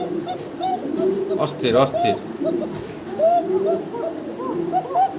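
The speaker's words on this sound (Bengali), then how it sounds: "ককার ডাক শোনাইতেছি আপনাদের" A pair of Kokka pigeons, shalik-coloured male and female, coo repeatedly in soft, rolling calls close by, mixed with a person talking over them.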